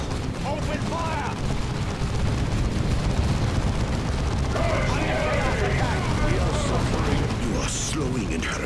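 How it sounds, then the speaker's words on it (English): Dense gunfire and explosive bursts from a Warhammer 40,000: Dawn of War II – Retribution battle against a Chaos Lord, loud and continuous through the whole stretch, with scattered voices in the chaos. "All guns, open fire!"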